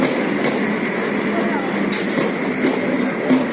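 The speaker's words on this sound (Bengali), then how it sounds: "এখন আমি স্টেশনে দাঁড়িয়ে আছি, শিয়ালদা আসছে" A Sealdah-bound train pulls into a railway station, producing a steady, loud rumble with faint squeals over the constant platform din.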